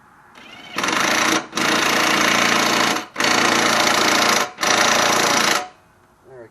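An air impact wrench with a 9/16 socket loosens a bolt during an engine swap and sump gasket job, firing four loud sustained bursts with brief pauses between them, close up and with no talking.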